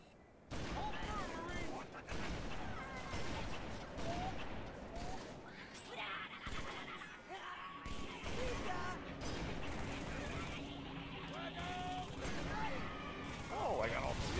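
Sniper rifle fire in Halo 3 against enemy snipers, sharp cracks and scattered shots over a dense battle mix with music and effects, a voice speaking over it at times.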